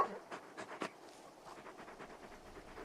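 A big dog in Final Fantasy XVI pants in quick, soft rhythmic breaths, close and fairly quiet, with a few louder huffs early on before settling into a steady pant.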